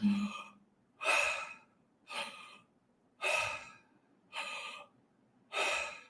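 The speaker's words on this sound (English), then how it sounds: "imagine your belly kind of expanding as you're breathing right into it" Slow, deep belly breathing in a calm exercise, six audible breath cycles spaced about a second apart, close and soft with airy inhales and exhales and no talking.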